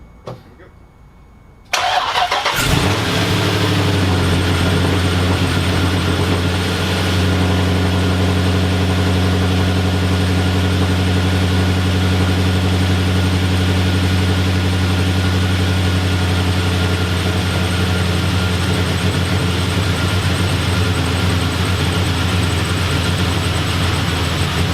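A Ford Focus RS, hot-wired on a lift, cranks briefly and catches, then settles into a loud, steady idle with a deep even hum that runs on for over twenty seconds.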